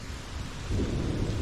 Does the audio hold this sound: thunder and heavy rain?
yes